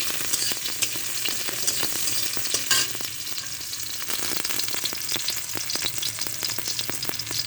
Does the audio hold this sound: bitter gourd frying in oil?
yes